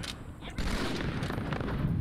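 Battle rifle bursts in the Halo 2 video game, a rapid dense string of gunshots cracking under battle noise and effects, loud and continuous after a brief quieter start.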